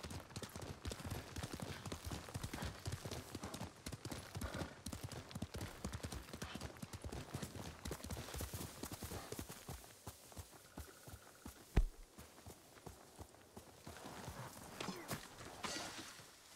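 Horse hoofbeats during a ride in Ghost of Tsushima drum in a fast, steady clip-clop gallop that stays close and fairly loud for most of the stretch, ease off briefly, then carry on, with no talking.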